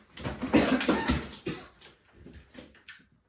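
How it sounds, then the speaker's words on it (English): A few rough, dry coughs close by, clustered at the start and then trailing off into quieter rustling. "Sorry if I'm coughing with some of these."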